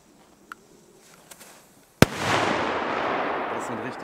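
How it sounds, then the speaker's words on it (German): A sharp bang is followed by a sustained crackling burst of Polish firecrackers, loud and close, after a couple of faint pops. "Das sind richtig schöne Böller."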